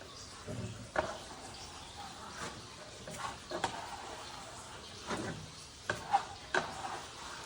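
A putty knife works Venetian plaster onto a wall, making faint scraping strokes and soft taps in an irregular rhythm that come and go quietly.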